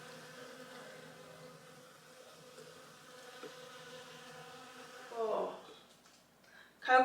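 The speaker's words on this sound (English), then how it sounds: "So the bees are absolutely loving the rocket in here. You can hear them buzzing about." Bees buzz steadily around flowering rocket plants on a Portuguese farm, a faint continuous hum with a brief louder rustle near the end.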